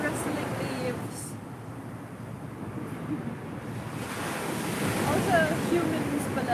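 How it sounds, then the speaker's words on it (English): Ocean surf rolls in steadily with strong wind buffeting outdoors, a continuous broadband wash that swells louder toward the end, heard from a tree near the shore with a road nearby. "I got the ocean on this side, the road on that side, trees and rustling leaves"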